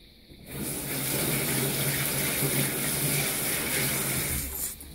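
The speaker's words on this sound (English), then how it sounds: "Fry it on the other side" Urad dal vadas frying in hot oil give a steady, dense sizzle and crackle that holds near and loud for several seconds before fading out, with no talking.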